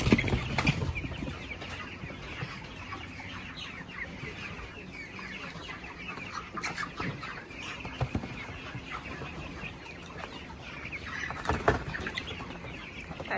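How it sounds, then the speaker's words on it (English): A flock of several hundred chickens on a farm clucks and squawks continuously, a dense, steady chorus of overlapping calls with occasional louder bursts up close. "Say hi chickens!"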